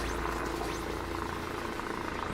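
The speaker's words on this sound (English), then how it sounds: "Sounds like someone's flying a personal jet or something close by, or a helicopter" A helicopter or small jet drones overhead nearby, a steady low rumble with a throbbing hum, continuous and moderately loud outdoors by a salmon river.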